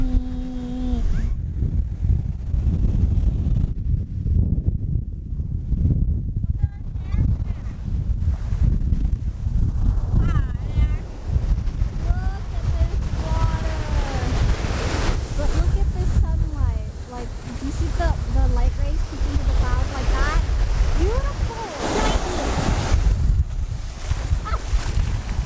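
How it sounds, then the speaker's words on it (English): Ocean waves and wind on a bright beach, a rushing surf roar with gusty microphone buffeting, close and continuous, while people talk excitedly over it. "But look at the beach. It's really pretty."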